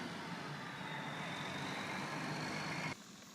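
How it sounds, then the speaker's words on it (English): A big horse-transport truck at a racetrack sale rumbles with a steady engine drone, loud and continuous, then cuts off abruptly near the end. "And here's one of the big trucks that they shipped them out on."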